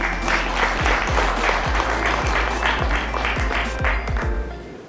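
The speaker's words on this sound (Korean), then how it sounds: "큰 박수로 환영해 주세요" Steady applause from an audience at an economic forum fills the whole stretch, dense and even, fading slightly at the very end.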